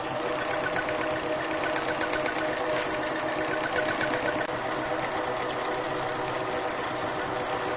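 A Janome 1600P sewing machine quilting on a Grace frame runs steadily, a fast, even mechanical whir with rapid needle chatter that continues loud and close without a break.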